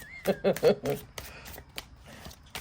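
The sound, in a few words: shuffling tarot cards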